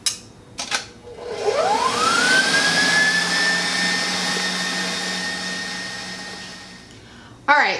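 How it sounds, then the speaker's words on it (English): A stand mixer whisks chocolate keto frosting as it ramps up to high speed, its motor whine rising in pitch then holding a loud, steady whirring drone with a few knocks at start and end. "kick our stand mixer all the way up high for 1 minute"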